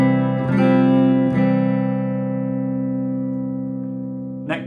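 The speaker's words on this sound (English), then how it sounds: "So this is the sound of the Artist guitar." Artist AT73 Pink Paisley electric guitar strummed loudly, a bright chord ringing out and slowly decaying, followed by a second strum and a brief pick scrape at the end, with no voices.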